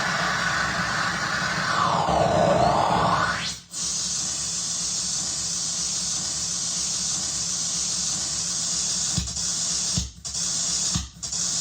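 Self-feedback synthesizer noise patch set up to mimic water drops: a loud steady hiss with a sweeping whoosh early on, then a few brief sharp drip-like clicks near the end.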